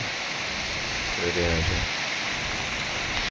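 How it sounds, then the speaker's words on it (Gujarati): Steady, dense hiss of monsoon-style rain driven by gusting wind in the Ratanmahal foothills near the Panam River in late May. It is loud and continuous throughout, with a brief rougher swell in the middle. "પવનના સુસવાટા અને વીજળીના પણ ધમાકા સાથે વરસાદ સરી પડ્યો છે"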